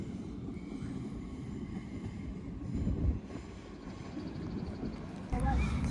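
A train running from Liverpool Lime Street to London Euston rumbles past with a steady low roar, swelling briefly near the middle and again at the end.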